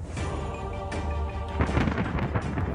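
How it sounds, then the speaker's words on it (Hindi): Deep rolling thunder from an approaching storm rumbles continuously, loud and heavy, with a fresh crackling surge about halfway through and no voices over it. "आंधी तूफान आने वाला है"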